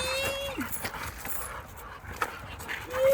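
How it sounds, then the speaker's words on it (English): A dog whines and yips close by, with panting and rustling in between and a high whimper at the end. "Look at them doggies."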